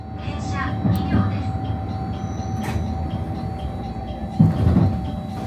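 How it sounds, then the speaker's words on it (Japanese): A local train on the Nagasaki Main Line rumbles along steadily with clattering wheel thumps and a faint high whine, close by, as it rolls in toward a stop at Isahaya Station. "静かな大村湾の横を抜けてきた列車は、まもなく諫早駅に到着します。"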